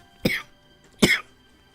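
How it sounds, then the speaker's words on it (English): Two sharp, close coughs from a man about a second apart, each a brief harsh burst, with no talking around them. "my body decides it's about time that I start coughing like crazy"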